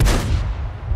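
A single loud, booming cannon shot from an M6 tank in the World of Tanks game, with a sharp blast at the start and a long rumbling tail decaying over a second, heard alone.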